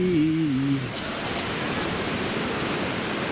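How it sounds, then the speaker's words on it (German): Ocean waves break and wash steadily onto a beach on Mallorca, a continuous rushing surf. A voice is heard briefly at the start. "Eine Welle nach der anderen."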